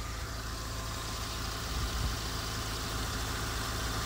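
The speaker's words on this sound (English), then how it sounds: "Perfect running engine." A Volkswagen Beetle engine idles steadily after a cold start, with a low, even mechanical rumble and a faint tick at moderate distance, alone without talk.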